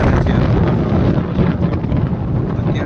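Strong wind buffeting the microphone with a constant loud rumbling roar, no voices.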